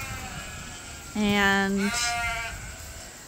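Sheep, ewes on a farm, give one clear bleat in two parts, the first tonal and wavering and the second sliding higher. It is loud and close over a quiet outdoor background, and a voice speaks a brief word just before it.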